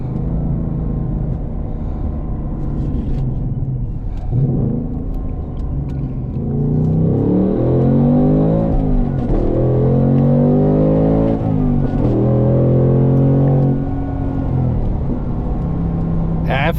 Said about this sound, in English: Oh, I love the rev matching.